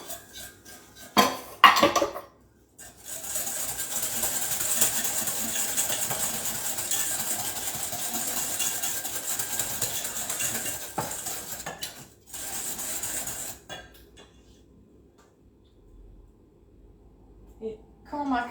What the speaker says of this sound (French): donc j'ai des jaunes d'œufs et du sucre. On mélange tout ça.